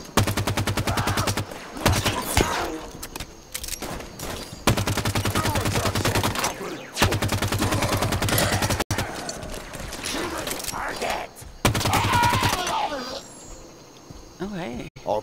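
Constant loud gunfire from the Halo 5: Guardians video game, rapid automatic bursts and sustained volleys filling the whole stretch, with only momentary breaks, close and dense.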